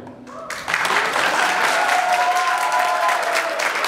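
Party guests at a sweet sixteen celebration at Bruno's on the Boulevard in Queens, New York break into a loud, sustained round of applause that swells suddenly and holds, with voices faintly under the clapping.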